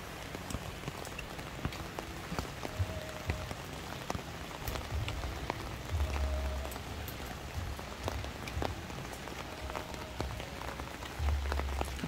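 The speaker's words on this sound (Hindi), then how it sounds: "अभी भी बारिश हो रही है" Rain keeps falling at a seaside spot on Ganghwa Island, South Korea, a constant close patter on surfaces with scattered sharper drop hits and occasional low thumps, no one speaking.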